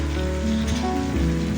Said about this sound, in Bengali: তারপরে মা এদিকে পটল ভাজছে।